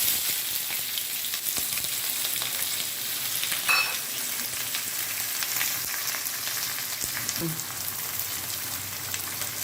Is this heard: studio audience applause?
no